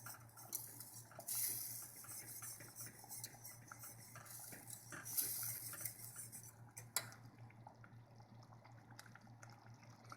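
A utensil stirs hot liquid in a pot for German potato salad, giving faint scraping and clinking against the metal with soft sloshing, low and continuous.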